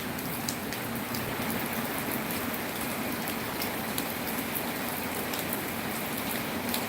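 Steady morning rain falls in a rural northeastern Thai village, an even dense hiss of drops hitting surfaces throughout, with no voices.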